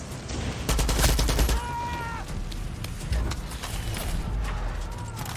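Loud, rapid bursts of gunfire fill a firefight in Far Cry 6, with repeated volleys and single shots cracking close by in quick succession.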